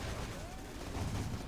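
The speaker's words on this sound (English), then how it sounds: "Love the explosion effects." Explosions and gunfire from Rise of the Reds 1.9 rumble as a dense, continuous battle din, with heavier low booms swelling near the end.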